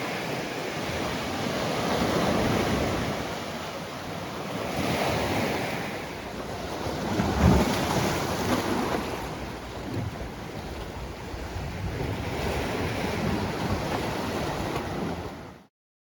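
Waves of the Tyrrhenian Sea on the Italian coast wash in a continuous, rolling roar, swelling and easing with a wind-like rush, with no voices.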